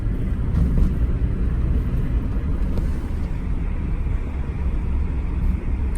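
A Rolls-Royce Silver Shadow drives along the road, heard from inside the cabin as a steady, loud low rumble of engine and road noise that holds evenly throughout.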